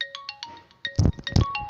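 An incoming call sets off a phone ringtone, a short run of bright electronic tones stepping in pitch, with a couple of louder thumps mixed in over the brief stretch.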